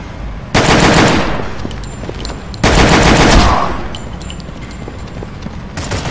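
Machine gun fire in the mobile shooter Gang War Mafia, two loud sustained bursts each lasting about a second, the second tailing off, followed by quieter game noise and a final burst starting at the end.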